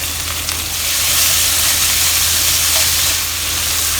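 Squid and prawns stir-fry in a wok for a Japanese yakisoba noodle dish, giving a steady, loud sizzle with a hissing edge that holds constant throughout, with no talking.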